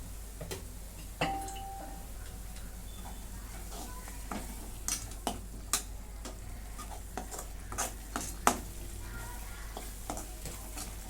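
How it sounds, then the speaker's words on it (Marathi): Homemade onion-garlic masala simmers in water in a pan, giving a steady low bubbling bed with scattered small pops and ticks, close and fairly quiet, with no voices. "मसाला चांगला शिजवून घेतला त्या पाण्यात"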